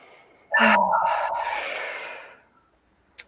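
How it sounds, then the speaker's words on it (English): One deep breath is drawn in sharply and let out in a long, slow exhale, close to the microphone and alone, fading away after about two seconds. "Let's take a deep breath."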